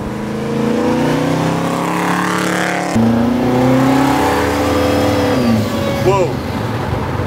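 Engine of a 2000-horsepower twin-turbo 540ci bubble top Impala at Detroit Autorama, a loud close rumble that rises and falls with light throttle, whining and shifting pitch, with people talking over it.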